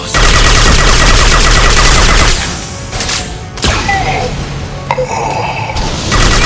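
Gunfire from the video game Mass Effect 2: a dense, loud burst of automatic fire fills the opening two seconds, then scattered shots, clanks and mechanical effects follow at a lower level.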